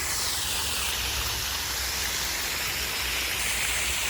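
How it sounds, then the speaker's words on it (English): A man-made waterfall fed by pumped water rushes in a constant, loud broadband hiss, with no talk over it. "So this is actually man-made waterfall, not the real waterfall."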